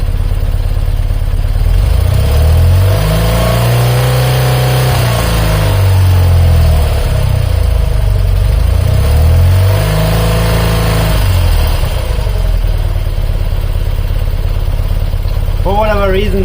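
A BMW airhead motorcycle engine, set up with a timing light, is revved twice from a loud idle. Each rev swells up in pitch and falls back, heard close and loud over a continuous engine drone.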